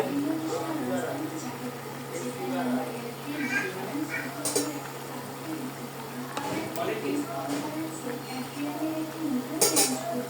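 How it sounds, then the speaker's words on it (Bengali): Metal lid set onto a cooking pot while prawns and winter vegetables cook on a stove, giving a couple of sharp clinks among soft kitchen clatter, with a voice talking nearby. "এখন ঢাকনা দিয়ে ঢেকে দেব"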